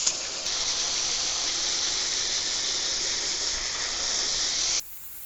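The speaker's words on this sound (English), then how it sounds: "I'm gonna spray everything down from the inside out and then do the reverse" An aerosol can of cleaner sprays onto air conditioner condenser coils in one long, steady, loud hiss lasting several seconds before cutting off abruptly.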